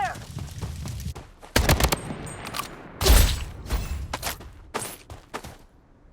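Bursts of automatic gunfire in the battle-royale shooter Blood Strike, several loud volleys and single shots scattered over a few seconds amid game sound effects and voice callouts.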